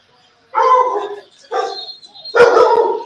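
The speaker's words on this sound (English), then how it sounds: "Oh, the dog barking." A dog barks loudly and nearby indoors, three separate bark bursts with short pauses between them, heard alone without talk.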